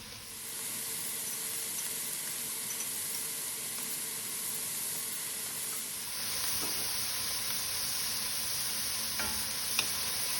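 Fried rice ingredients and onions sizzle steadily in a hot pan, a loud continuous frying hiss that brightens partway through, with faint scrapes from stirring.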